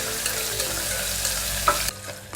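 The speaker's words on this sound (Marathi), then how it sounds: "कांदा आपण छान भाजून घेऊया" Sliced onion sizzles steadily in hot oil for rice with black masala, a dense close frying hiss with faint stirring scrapes, easing off near the end.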